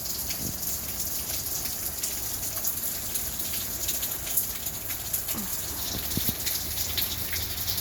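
Heavy rain pours steadily outdoors where cats are being fed, a dense, even hiss of falling water with scattered drips and patters on surfaces, continuous throughout.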